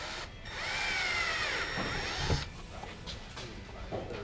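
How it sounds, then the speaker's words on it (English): A power drill whines up in pitch as it bites into material, drilling holes to mount a wicker bill on a 2015–2023 Mustang Track Pack, running for about two seconds, close by, then stopping with light clatter afterward. "Now we're gonna drill the inside holes."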